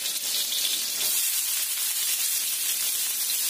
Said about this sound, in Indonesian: Kita panaskan minyak lagi. Kita masukkan bawang putih, bawang merah irisan. Tambahkan bawang bombay.